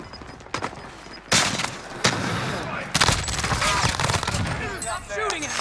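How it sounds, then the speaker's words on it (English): Video-game gunfire in Call of Duty Warzone, with rapid bursts and fusillades of shots close by, several sharp onsets and dense overlapping fire, while players talk over it. "Stop shooting at me."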